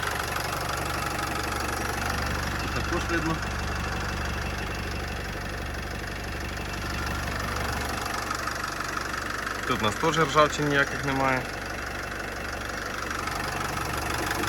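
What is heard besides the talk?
diesel van engine idling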